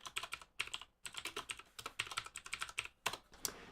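Fingers type on a computer keyboard in quick, irregular bursts of close, crisp key clicks with short pauses between runs, no voices.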